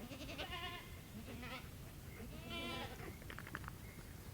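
A herd of goats with their kids coming in from the field, several goats bleating in turn, with loud, wavering calls up close over a busy outdoor background.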